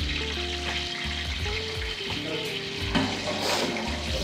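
Cinnamon, cloves and cardamom frying in hot oil in a large pot for a family Diwali cooking session, giving a loud steady sizzle with some stirring clatter and a few faint background hums, close by.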